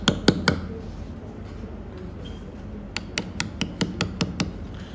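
Hammer blows drive a chisel into stone while cutting letters: a few sharp taps at the start, then a quiet pause, then a quick regular run of about eight close, ringing strikes.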